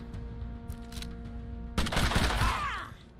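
A single sharp gunshot in the video game Mutant Year Zero bursts in after a quiet stretch of low game ambience, then rings out in a brief rattling echo and fades.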